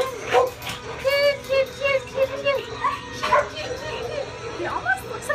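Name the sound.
dog barking and whimpering at animal shelter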